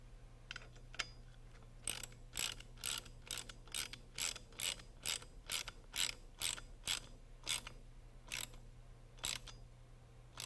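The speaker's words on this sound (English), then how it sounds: "Then tighten the bolt as shown" Ratcheting clicks from a wrench tightening a bolt on the control stick stub of a Rotorway kit helicopter, heard as a run of sharp, evenly spaced bursts close to the mic over a steady low hum.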